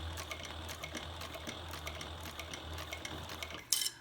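A sewing machine topstitches a handbag with a quiet, fast, even mechanical patter and a low hum underneath. A brief sharper clatter comes near the end.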